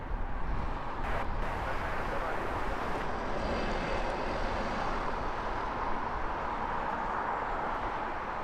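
An Air Baltic Airbus A220 jet airliner at Heathrow Airport gives a steady, loud broadband engine roar that holds evenly throughout, with no talk over it.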